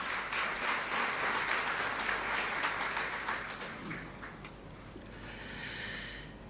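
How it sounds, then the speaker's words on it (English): Audience applause at a student services awards ceremony, a dense wash of clapping that starts out strong, then thins and fades toward the end, with no talking over it. "Can we give them a big round of applause, ladies and gentlemen?"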